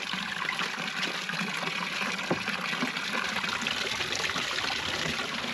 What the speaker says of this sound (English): We got water running through it.